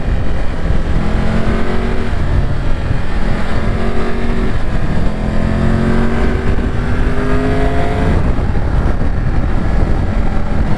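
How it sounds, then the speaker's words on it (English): Triumph Tiger 1200 Rally Pro motorcycle engine under load, its airbox intake drawing air: a steady loud drone heard from the rider's position, with pitch climbing through several gear changes under wind noise. "You actually can hear it, you can hear the airbox just soaking air in underneath you."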